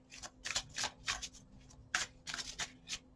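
A few tarot cards slide and slap down on a tabletop in quick papery bursts, close and fairly quiet, with short pauses between the handling sounds.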